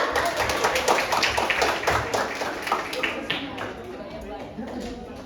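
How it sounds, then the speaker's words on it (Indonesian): A crowd claps for team A at a provincial museum quiz contest final in North Kalimantan: a dense run of close handclaps, strongest early and thinning slightly toward the end, with voices talking over it. "Boleh tepuk tangan untuk regu A."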